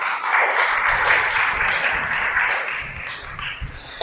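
Applause from a congregation at a Torah teaching, a thick wash of clapping that stays fairly loud for several seconds, then thins and tapers with a few scattered final claps.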